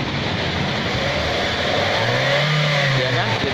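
Car engine revving up and then easing back, a mid-pitched rising and falling roar from a car with a grinding noise when braking, heard close and continuous.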